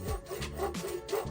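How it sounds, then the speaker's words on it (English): A hand hacksaw cuts an aluminum bar to size in a vise, making quick rhythmic back-and-forth rasping strokes, close and moderately loud, about four strokes with no talking. "And here I'm just cutting the aluminum bar down to size."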